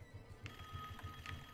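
A telephone rings in Call of Duty Black Ops 6, a faint, repeating electronic ring with a steady low pulse beneath it throughout, heard from somewhere out of view.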